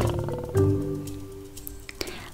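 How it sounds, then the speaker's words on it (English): A lion roars briefly in a read-aloud animated story, layered with music-like tones, then fades to quiet with a few small sounds. "I hear a lion roaring in my ear."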